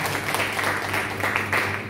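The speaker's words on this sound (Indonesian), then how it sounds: "Tepuk tangan buat Tuhan." Congregation at a GBI church Easter service in Ngawi claps together, a continuous moderate applause with a low steady hum beneath it and no speech over it.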